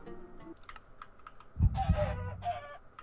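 Minecraft chicken clucks in short bursts amid rapid keyboard-like clicking, with a deeper thump and a longer cluck sequence in the second half.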